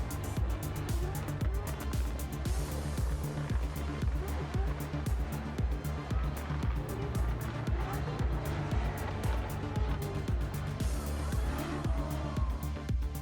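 Drift cars at a Russian Drift Series superfinal race at Rostov Arena, engines roaring steadily with tire squeal and skidding throughout, loud and continuous under a dense crowd and announcer background.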